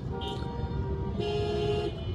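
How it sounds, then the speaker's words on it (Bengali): A car horn sounds in two short toots, a brief one and then a longer held blast, moderately loud over low traffic rumble. "হর্ন দিয়েন না"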